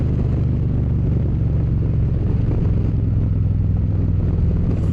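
A motorcycle engine running steadily at close range through a fast turn, a constant loud drone with low rumbling harmonics and no voices.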